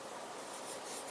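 Pen writing on a small slip of paper, a steady close scratching and rubbing with no pauses, alone and quiet.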